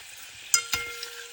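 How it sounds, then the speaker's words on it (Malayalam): Rosemary leaves bubble in hair oil over a low flame, a soft, brief sizzle broken by a couple of sharp little crackles. "നല്ല തിളച്ച് വരുന്നുണ്ട്."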